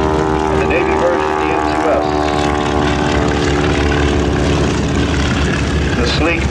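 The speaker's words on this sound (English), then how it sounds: "The Boeing Stearman, the open cockpit biplane," A Boeing Stearman open-cockpit biplane, a World War II primary trainer, drones steadily overhead in flight, its propeller engine loud and continuous with a rich harmonic hum, while a voice narrates over it.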